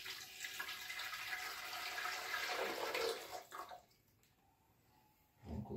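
Hot water gushes and splashes steadily into a Multi Home Multiturbo 650 blender jar, then stops, leaving near silence before a short splash returns at the end.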